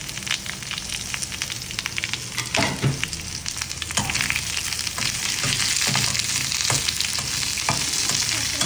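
Chopped onions fry in a hot pan for uppu kari chicken, a steady loud sizzle with occasional crackles and stirring scrapes throughout, close up and with no talk.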